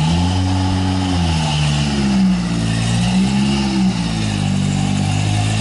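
A propane-injected, supercharged engine in a 2003 Nissan long-travel truck revs loudly and close by, its pitch climbing and wavering through several throttle blips with no voices.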